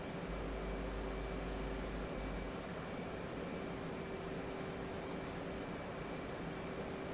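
Steady, even roar of an F/A-18C Hornet jet engine on light afterburner in DCS flight simulation, climbing toward 30,000 feet, a dense constant rush with a low hum and no voices.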